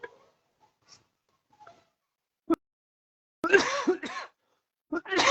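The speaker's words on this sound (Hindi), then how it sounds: "गले में खांसी है," A man with a sore throat coughs several times, faint scattered throat sounds early, then a sharp single cough followed by a couple of harsher, louder coughing bursts close to the microphone.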